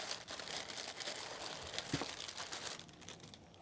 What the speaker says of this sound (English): All you have to do is remove these plastic bags.